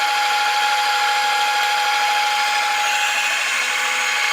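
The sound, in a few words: speed multiplier drive spinning at 4,000 RPM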